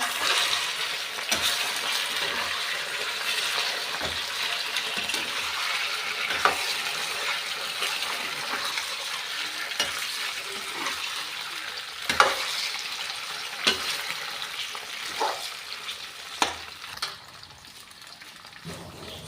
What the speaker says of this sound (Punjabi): ਆਪਾਂ ਨੂੰ ਲਾ ਰਹੇ ਹਾਂ ਜੀ ਤੜਕਾ